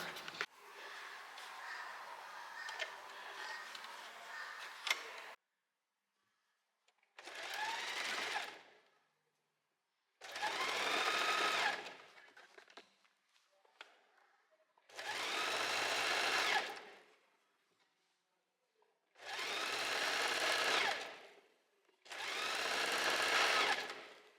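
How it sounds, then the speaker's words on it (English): Sewing machine running straight stitch at stitch length 4 with the needle centred, sewing elastic onto a blouse, in five steady bursts of close whirring separated by silent pauses, with faint handling noise before the first run. "I'm changing my stitch length to 4 again, but I'm leaving the needle in the middle"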